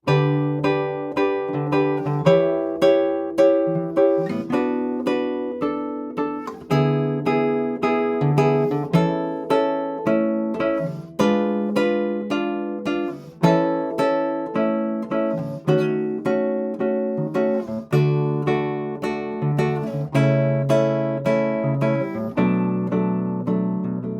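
An acoustic guitar plays a steady instrumental verse of a song, moved up a fourth, with strummed and picked chords, close and clear, with a regular rhythm and no singing.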